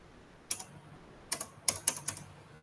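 Keystrokes on a computer keyboard, a single click followed after a pause by a quick run of several taps, close and crisp in a quiet room.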